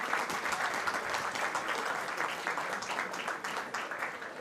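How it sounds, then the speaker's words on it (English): Stadium crowd applauding steadily as Lille's number 7 is substituted off during a Lille versus Juventus UEFA Youth League under-19 match; dense, sustained clapping fills the whole stretch with no clear talk. "Changement pour le LOSC et la sortie sous vos applaudissements du numéro 7,"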